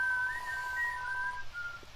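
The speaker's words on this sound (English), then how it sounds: "You're whistling." One person whistles a faint, steady single note, wavering slightly in pitch and held for about a second and a half, with no talking.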